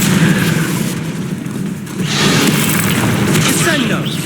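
Loud, dense booming from a Confringo fire-blast spell in Hogwarts Legacy, a sustained roaring burst that swells again after a brief dip, with voices mixed in.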